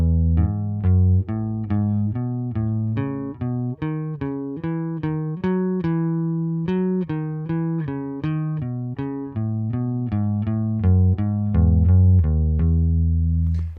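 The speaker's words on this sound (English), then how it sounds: "we're going to do this exercise in intervals of thirds, which sounds like this." Bass guitar played with a pick runs a major scale exercise in thirds, jumping between intervals in a steady stream of about thirty clear, evenly spaced plucked notes, close and alone with no talking.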